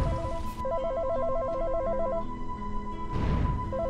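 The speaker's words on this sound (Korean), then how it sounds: "전화벨이 울려." A telephone rings in a Korean horror video game, a steady repeating electronic warble pulsing loudly over dark ambient game music and low drones, with no one talking.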